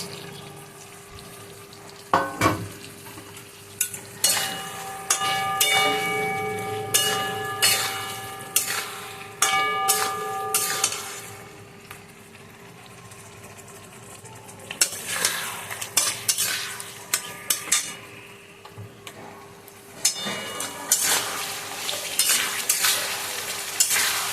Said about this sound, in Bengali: এবার এই ভাজা আলু বেগুনটা দিয়ে দেবো